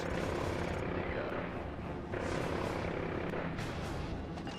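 Helicopter rotors drone steadily through a battle in Call of Duty Modern Warfare 3, a dense continuous roar with faint bursts layered over it and no voices.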